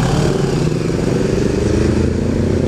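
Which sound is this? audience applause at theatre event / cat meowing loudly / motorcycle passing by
motorcycle passing by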